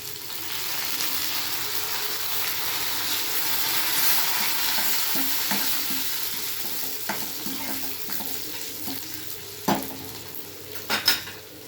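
Curry leaves sizzle in hot oil as the tempering for a Kathiyawadi spiced yogurt dish, a steady close frying hiss joined by stirring scrapes and a few sharp clinks of a spoon against the pan near the end.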